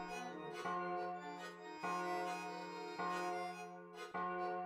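A bell in Final Fantasy VIII rings in repeated, resonant tolls with rich sustained overtones. The strikes come roughly every second or so, each one swelling and then decaying into the next.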